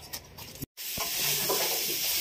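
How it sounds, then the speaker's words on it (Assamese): Pork sizzles and hisses while dry-frying in a pan, a continuous bright frying hiss after a short break, with a few stir clatters. "ভাজি ড্ৰাই ফ্ৰাই"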